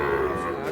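Cattle low in a long, continuous moo at a busy livestock market selling young bulls and heifer calves, close and fairly loud over murmuring crowd noise.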